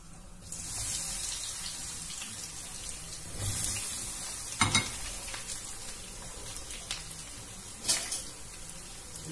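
Eggplant frying in hot oil for fusilli with eggplant and tuna: a steady, bright sizzle throughout, with a few louder clattering bursts as pieces move in the pan, no voices.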